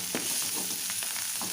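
Crushed ginger, garlic and curry leaves sizzle loudly in a pan for hotel-style ivy gourd fry, a dense steady frying hiss with a few soft stirring scrapes close by and no voices.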